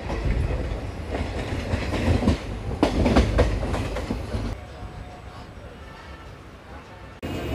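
The Prashanti Express from Bhubaneswar to Bengaluru rumbles past near Vijayawada with loud rolling clatter of wheels on rails, fading to a quieter steady hum, heard under talk.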